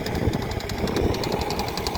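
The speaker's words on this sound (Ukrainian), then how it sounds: "Сівалка чотирьохрядна, невеличка, але функцію свою виконує." A Yuto tractor engine running hitched to a small four-row seeder, a loud continuous rattling chug with rapid rhythmic knocking, close to the microphone and without talk.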